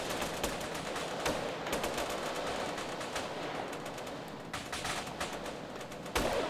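Constant rapid gunfire in a Grand Theft Auto game mission, with many overlapping automatic bursts and single shots forming a dense, loud battle din throughout.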